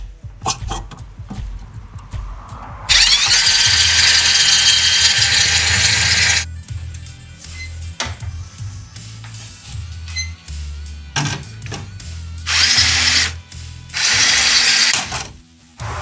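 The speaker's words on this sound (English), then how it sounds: "I gotta drill out those rivets." Loud bursts of a power drill whining and grinding as it drills out rivets on a Cadillac Seville, two longer runs then shorter pulses, separated by clicks and handling noises.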